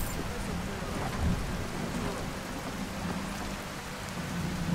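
Steady rain hisses down in the Skyrim video game, a constant wash of falling drops with a soft low rumble beneath.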